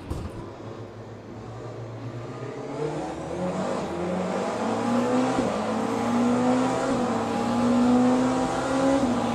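Porsche race car in the Le Mans Ultimate racing game pulls away at a race start on a corner, its engine revving and climbing steadily in pitch, loud and continuous with no talk.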